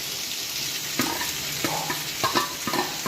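Tomatoes, green chillies and coriander leaves sizzle and fry in a pan for a chicken curry, with a steady hiss broken by several scraping stirs of a spoon against the pan.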